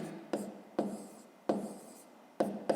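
Pen strokes scratch across paper while a fifth-grade math exercise is worked out, each stroke starting with a sharp onset and fading, about five close, dry bursts with short pauses between them and no voices.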